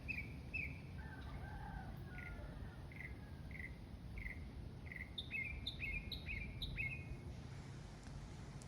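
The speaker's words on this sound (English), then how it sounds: "That bird's the one that's singing." A songbird sings outdoors on Texas land after rain, repeating short chirped phrases in a regular series, faint and at a distance over a steady hiss of insects.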